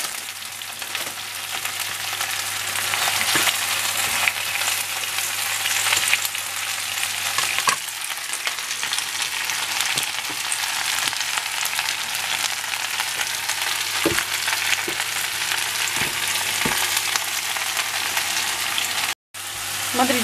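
Spinach frying in a pan gives a steady, close, bright sizzle that runs without a break, with occasional soft stirring knocks and no talking.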